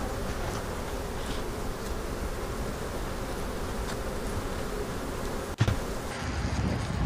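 Honey bees buzz in a dense, continuous drone around a hive box in a bee yard of nucs and splits, close and steady, with a brief knock or handling bump near the end.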